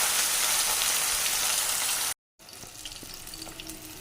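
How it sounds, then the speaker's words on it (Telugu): Fish pieces frying in hot oil over a medium flame give a dense, loud, close sizzle that stops abruptly for a moment before returning slightly quieter, with faint scattered pops and no speech. "ఒక ప్యాన్లో ఆయిల్ తీసుకొని ఆయిల్ వేడెక్కాక ఈ ఫిష్ ముక్కలను ఒక్కొక్కటిగా వేసి మీడియం ఫ్లేమ్లో ఫ్రై చేయాలి"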